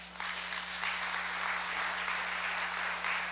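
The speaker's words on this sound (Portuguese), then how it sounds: "Podemos aplaudir o Senhor por isso." Church congregation breaking into sustained applause during a sermon, a dense, even clatter of many hands clapping that fills the space for a few seconds beneath a steady low hum.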